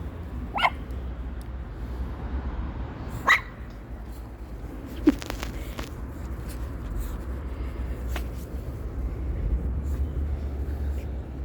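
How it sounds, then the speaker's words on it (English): A few brief, fairly faint dog barks come at scattered intervals over a steady low background hum. "Peppa, stop your barking."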